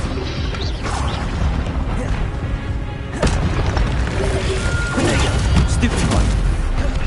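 Expelliarmus spell effects in Hogwarts Legacy land as sharp, booming crashes and metallic clanks over a busy battle bed, with two heavy impacts and a voice partly audible in the mix.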